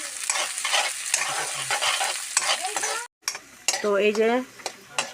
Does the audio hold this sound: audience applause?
no